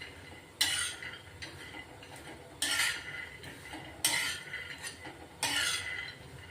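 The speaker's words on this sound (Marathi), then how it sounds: "याचं जाडसर कूट करायचे म्हणून भाजून घेते आता" Peanuts dry-roasting over a low flame in a pan, stirred with a metal spoon; four sharp scraping sweeps recur every second or so above a faint rattling bed, close and alone with no voices.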